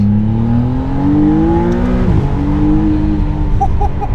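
A McLaren Artura's V6 engine hums steadily and climbs in pitch as it accelerates, dips briefly at a gear change, then rises again; loud and continuous.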